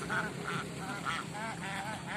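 Ducks in a rice field quack in a quick series of nasal calls, close and fairly clear against a low background hum.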